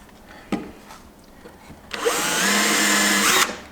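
After a light knock, a power drill whirs in one steady burst of about a second and a half as it bores partway into cabinet parts for a large bookcase.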